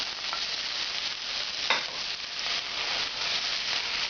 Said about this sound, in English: start cooking the tomato sauce